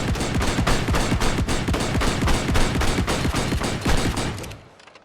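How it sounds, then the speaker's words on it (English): Sustained rapid fire from a modded 20-round-magazine rifle in the video game ARK, a loud, dense, unbroken stream of shots for several seconds before cutting off and fading out. "So get real up close for the first shot. I'll shoot from like right here."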